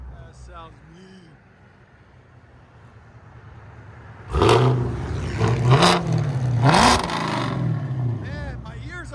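A 2018 Chevy Camaro SS with a 6.2L V8, long tube headers and straight pipes, idling and then blipped in three loud, raspy revs close by, with someone talking over the start.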